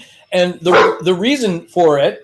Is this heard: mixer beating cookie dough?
no